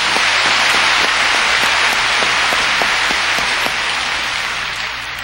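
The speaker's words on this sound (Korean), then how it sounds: "한번 박수로 하나님께 감사를" A church congregation breaks into loud, sustained applause of thanks, a dense wash of many hands clapping together with a few sharper claps standing out, easing off slightly toward the end.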